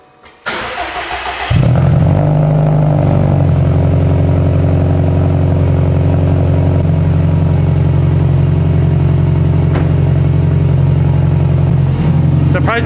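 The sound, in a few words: modified Subaru STI engine starting and idling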